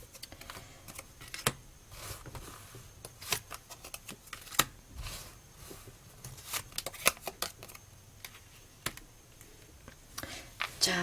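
Tarot cards shuffled and drawn for a reading, a close run of crisp riffling clicks and soft slaps with sharp card snaps scattered throughout, steady and fairly near with no talking.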